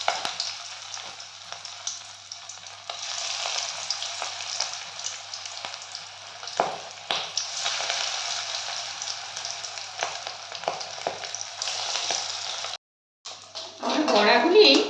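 Katla fish fritters deep-frying in hot white oil give a steady, close hiss and crackle that runs almost unbroken, with a brief drop near the end before a louder burst of bubbling returns.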